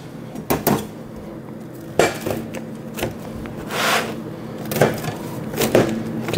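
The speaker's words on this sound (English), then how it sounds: "You can hear the crispness of that." A crisp pizza fresh from a Merrychef oven is handled on a hard surface, giving a few sharp knocks, scrapes and clattering taps, close and fairly loud, with no voices.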